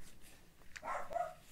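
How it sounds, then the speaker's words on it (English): A dog gives a couple of short, faint barks in a quiet indoor room, heard from some distance. "Oz, no barking."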